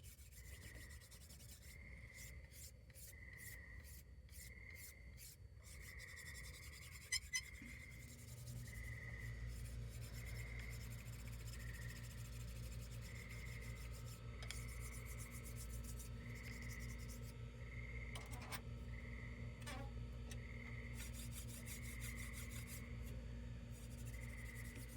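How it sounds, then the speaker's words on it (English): A wooden sword being hand-sanded to smooth rough grooves, heard as steady rhythmic rubbing strokes, close and quiet, with a low continuous hum coming in partway through. "And I'm gonna sand it down by hand to get out most of the rough grooves from the sander."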